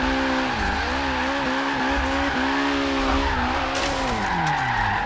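A Nissan S13 tears through a street section in a Forza racing game, its engine droning steadily with rising and falling revs while tires squeal almost continuously, loud and close.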